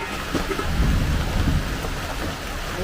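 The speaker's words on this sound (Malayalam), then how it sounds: "ഇടി ഇടി" Heavy rain hisses steadily on surfaces while a low rumble of thunder swells and rolls beneath it for a couple of seconds, then eases back into the downpour.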